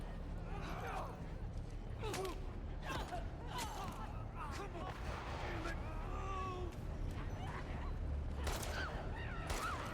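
Gunfire in the video game The Last of Us Part II: several sharp, punchy shots at irregular intervals over a dense, continuous game soundscape, with occasional vocal sounds mixed in.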